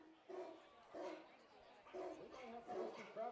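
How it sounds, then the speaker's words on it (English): Recorded dog barking effects blare over a stadium PA at a Crabs vs. Lincoln Potters baseball game, several reverberant woofs in a loose rhythm that sound distant and echoing across the ballpark, with crowd murmur beneath. "there's a bunch of dog barking noises over the PA"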